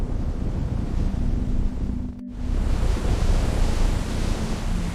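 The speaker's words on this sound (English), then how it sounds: "The ocean collides with rock in constant assault." Ocean waves crashing against rock along the Aleutian Islands coast of Alaska, heard as a loud, continuous roar of surf and wind with a brief cut midway, with no voices.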